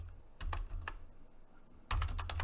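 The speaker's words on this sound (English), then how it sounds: "I'm going to start typing" Typing on a computer keyboard, with scattered single key clicks followed by a quick burst of several keystrokes near the end, close and fairly quiet with no voices.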